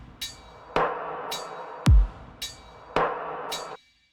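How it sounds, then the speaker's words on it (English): A hi-hat added to an electronic dungeonstep drum track: crisp, bright ticks recur in a steady pattern across a dark pad bed, with one deep kick thud near the middle and a clap-like hit marking the beats, and the track cutting off abruptly at the end. "The next thing I added was this hi-hat here"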